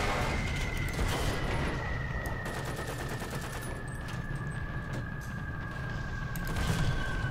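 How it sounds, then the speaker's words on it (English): Bomb blasts in the War Thunder tank game around a Panzer 4C, heard as a long, dense, rumbling roar of rapid crackling detonations with a steady whining tone on top, no voices. "Those bomb noises. They really just last forever."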